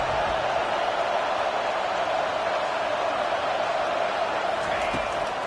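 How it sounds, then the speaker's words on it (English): A stadium crowd at an LSU football game roars steadily through a tense red zone defensive stand, a dense, sustained wash of cheering noise at constant loudness without a break. "And here comes the noise. This crowd is trying to inspire this defense to make a big red zone stop."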